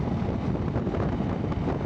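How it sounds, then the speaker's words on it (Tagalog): Strong wind buffets the microphone during a motorcycle group breakfast ride, a loud, dense, continuous rumbling roar with no breaks and no talking. "Yan, mahangin nga talaga."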